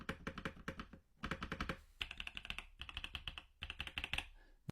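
Typing on an Attack Shark X85 mechanical keyboard: rapid, crisp clacky keystrokes in quick bursts with short pauses between, close and clear with no voices.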